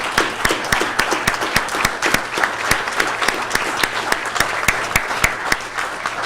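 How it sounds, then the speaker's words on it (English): Audience at a city council meeting applauding, with sparse, distinct claps from a modest crowd forming an uneven but steady rhythm at close range. "Give them a round of applause"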